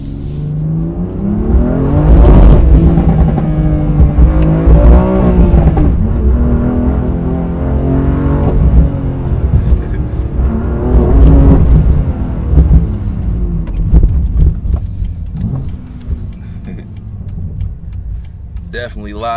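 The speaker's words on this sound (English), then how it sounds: "I hear a slightly, well, definitely a deeper growl to it." BMW M2 Competition with its inline-six and an aftermarket midpipe revving, a deep growling exhaust rising and falling over repeated throttle blips, loud and close with crackles, while someone talks over it throughout.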